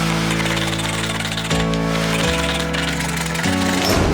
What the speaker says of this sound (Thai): หลังจากนั้นผมจะนำชิ้นไม้ มาตัดด้วยเลื่อยนะครับ